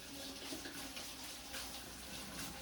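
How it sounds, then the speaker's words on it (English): Potatoes being scrubbed with a brush under running water: a steady, even rush of water from a tap with faint scrubbing mixed in, close and continuous, with no voices. "So now I'm just going over quickly with a brush and some water."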